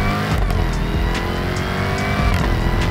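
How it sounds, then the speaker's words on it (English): A performance SUV accelerating hard, its engine roaring loud and steady throughout with a thin, high supercharger whine running over the engine note. "Why would you not buy this car just for that supercharger whine?"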